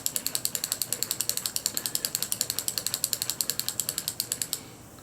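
A spin cast closed-face fishing reel clicks in a fast, steady ratchet as line winds onto it, dozens of sharp evenly spaced ticks up close that stop abruptly near the end.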